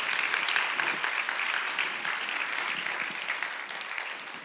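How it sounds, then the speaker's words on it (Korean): A church congregation gives a big round of applause to welcome a guest speaker, a dense, even wash of clapping from many hands that holds steady throughout and fades slightly at the end. "이 시간 우리 탁지원 소장님 모셔서 말씀 들을 때 우리 큰 박수로 환영해 주시길 부탁드립니다"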